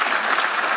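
Loud, dense applause fills a conference hall at a cycling and walking colloquium, a brief unbroken burst of many people clapping together.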